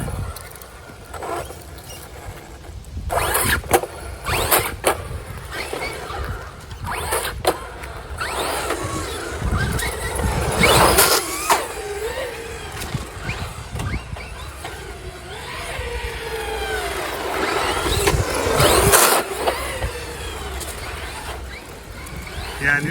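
A Traxxas Hoss RC truck fitted with a Hitec D956WP servo drives about, its electric motor whining up and down in bursts, with tire and mechanism noise and occasional voices nearby.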